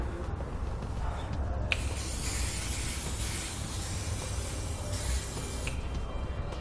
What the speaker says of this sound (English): We're going to spray them down.